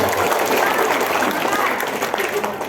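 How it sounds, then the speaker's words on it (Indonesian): A crowd at a gathering applauds future supervisors, a brief, loud, dense burst of many hands clapping lasting a few seconds, with voices mixed in under the clapping. "Tepuk tangan untuk calon pengawas."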